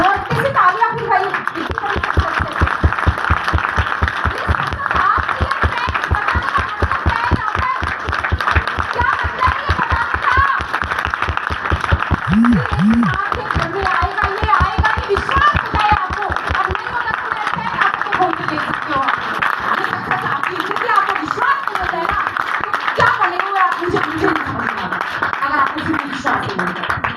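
Audience applause at a Modicare team stage programme, a dense, steady wash of many hands clapping that holds loud throughout, with crowd chatter mixed in.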